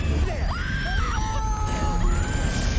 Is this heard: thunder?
no